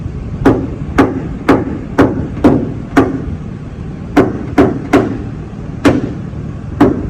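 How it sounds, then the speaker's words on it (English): Hammer striking a knockdown tool to tap down the high spot of a large hail dent in car body panel, a dozen sharp close metallic taps in an uneven rhythm. "this is called a knockdown, and this is a hammer, and I knock it down"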